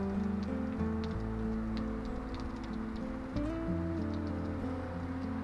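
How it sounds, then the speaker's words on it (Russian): Heavy rain on a May holiday at a grandmother's country home, a constant patter and hiss with tonal hum beneath, steady throughout with no talk. "Вот такая вот погода, такой дождь"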